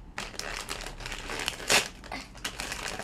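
A plastic gift bag crinkles and rustles steadily as it is opened, close up, with one louder crackling crush partway through and no talk.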